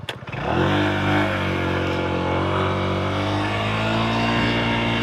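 A Honda Giorno scooter engine runs steadily while riding, after a brief sputtering start, settling into a loud, constant, buzzing drone close by with no talking.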